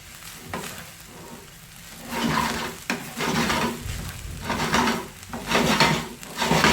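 Egg fried rice is stirred and tossed in a frying pan rather than a kadhai, with steady sizzling broken by repeated scraping strokes of a spatula against the metal.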